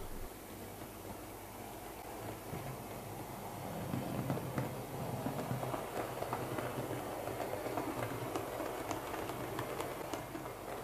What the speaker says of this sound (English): we need to wait for the 2 p.m. staff train to clear the yard